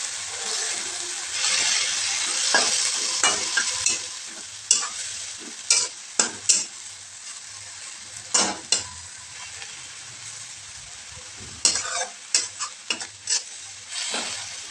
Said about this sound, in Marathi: तर आता ते मेथी जी टाकलेली आहे मी व्यवस्थित ते तेलामध्ये परतून घेते.